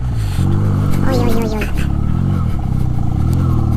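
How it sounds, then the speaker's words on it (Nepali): A Benelli TNT motorcycle engine revving as it climbs uphill, a loud, close, steady drone that rises in pitch around the middle, with wind rush and someone talking over it. "200 किलोको बाइक चाहिँ तान्न पनि गाह्रो हुन्छ होला"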